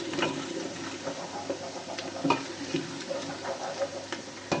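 Onions softening in a pan for an egg and chickpea curry, a steady gentle sizzle with soft scraping stirs and light clicks of a spoon, close and moderately loud with no talking.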